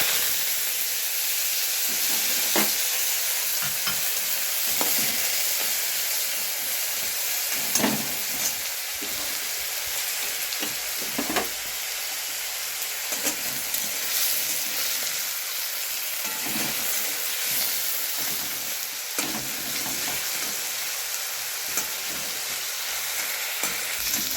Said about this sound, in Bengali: তেল গরম হয়ে গেছে এবারে আমরা আলুটা দিয়ে দিচ্ছি আরও লাল লাল করে ভেজে তুলে রাখবো